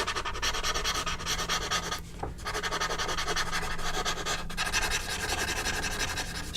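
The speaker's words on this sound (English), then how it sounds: "I'm using the smudging tool now and finishing the lines off right to the edge." A smudging tool rubs back and forth across a drawing, working lines out to the paper's edge; soft, close scratchy strokes in a steady rhythm, with two brief pauses, and no voices.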